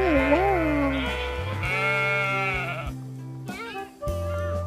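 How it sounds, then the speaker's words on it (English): Sheep bleat loudly and close by in several wavering, nasal calls, one after another with brief gaps, with no talking over them. "This is sheep!"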